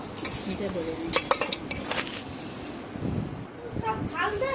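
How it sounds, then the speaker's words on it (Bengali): Meat being cut into small pieces with a knife, giving irregular sharp metallic clinks and scrapes against a plate or board, close by, with faint voices in the background. "প্রথমে মাংসটাকে আমি কেটে পিস করে নেব"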